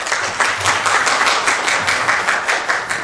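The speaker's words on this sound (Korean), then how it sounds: "박수로 맞이해 주시기 바랍니다." An audience applauds to welcome the moderator at a forum on hanok policy, a dense steady round of many hands clapping that fills the hall without pause.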